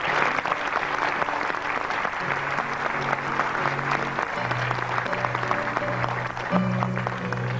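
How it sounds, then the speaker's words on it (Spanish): Warm applause from an audience at a tribute event in Delicias, Chihuahua, steady sustained clapping from a crowd, with a faint musical tone or hum underneath. "Vamos a darle un aplauso muy caluroso."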